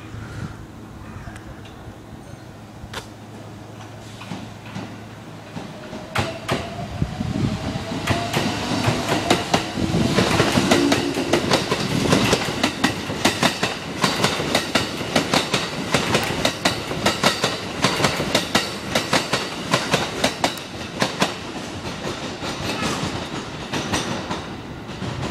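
A Kyoto subway through-service express train moves through Saidaiji station, starting faint and then growing into a loud, rhythmic clickety-clack of wheels over rail joints with brief squeals, heard from the platform.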